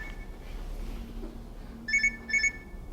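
A phone alarm goes off during a lecture despite airplane mode: two short pairs of bright electronic beeps near the end, faint but distinct over a quiet room hum.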